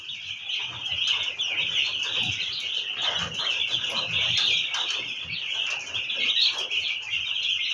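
Continuous high-pitched peeping and chirping from many young broiler chicks at feeders, steady and fairly close throughout, with no talking.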